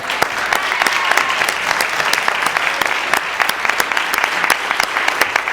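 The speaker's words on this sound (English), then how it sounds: "let's give them a round of applause" An audience at the Vermont Poetry Out Loud regional semifinal applauds the teachers in the house, a loud, steady stream of clapping from a sizeable crowd with sharp individual claps standing out.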